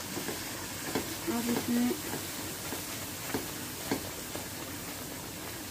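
Spice masala of turmeric, coriander powder and Kashmiri red chilli sizzles and fries in oil for an egg korma, a steady broadband hiss with occasional stirring scrapes, under a voice.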